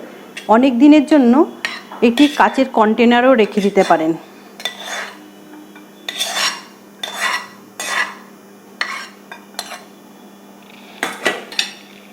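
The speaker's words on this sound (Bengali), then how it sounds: "এবার আমি একটা বাটিতে ঢেলে নিলাম" Sweet, sour and spicy amla pickle scooped out of a cooking pan into a bowl: a run of close, fairly loud metal-spoon scrapes and clinks against the pan, about half a dozen at irregular intervals, after a few seconds of a voice at the start.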